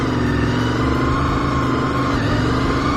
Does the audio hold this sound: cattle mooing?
no